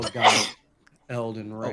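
A single sharp sneeze bursts out at close range, followed by a short pause and then a person speaking.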